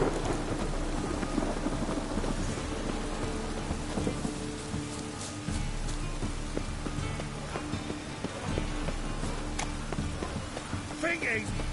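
Rain falls over a city in The Witcher 3, a steady wash of downpour with low rumbling thunder beneath, continuous and fairly quiet, with faint voices drifting under it.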